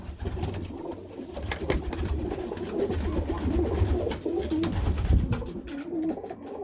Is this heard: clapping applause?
no